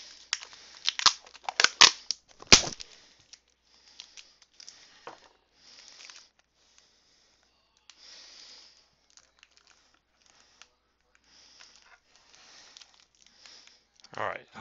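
Crinkly tape being pulled and pressed onto the fire button of a Jellyfish vape mod, with a few sharp crackles and tearing bursts early, then quieter scattered rustling and a final crinkle at close range.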